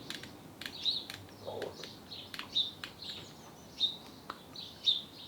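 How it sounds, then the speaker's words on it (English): Small garden birds such as sparrows, tits and robins give short high chirps and tweets, about five spaced calls over a faint background with a low hum. "These birds that we're going to be shooting today are sparrows, tits, robins"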